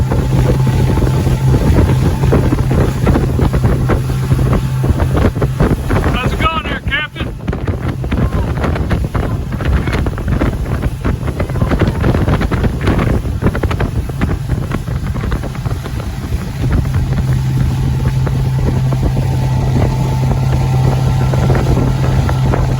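A motorboat heads back toward a marina on Sarasota Bay, its steady engine drone loud and continuous under heavy wind buffeting on the microphone, with water noise throughout and a brief dip in the middle.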